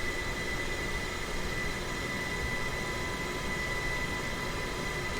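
An Airbus A320 rolling onto the runway, a steady loud engine roar and broadband rumble heard from inside, unchanging across the whole stretch with no talk.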